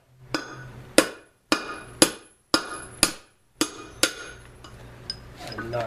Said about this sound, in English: take your drift punch and your trusty hammer,